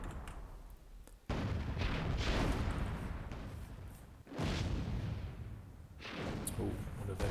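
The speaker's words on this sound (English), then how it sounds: "Hopefully some of these cannon shots will connect." Cannon fire in Myth II Soulblighter, a World War II tournament match, with dense broadband booms that slam in abruptly and roll on, several heavy bursts over sustained rumble, loud and close.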